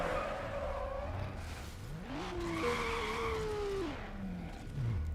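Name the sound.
car skidding against a wall in video game Need for Speed: Underground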